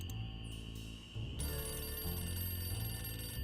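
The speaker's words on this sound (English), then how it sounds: "Wow, it's an old phone." An old telephone rings with a continuous bright bell tone, fairly close and steady, strengthening partway through, with no talking.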